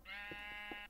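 A sheep bleats in the video game Minecraft Alpha 1.2.6, a single short nasal baa, faint and without talk.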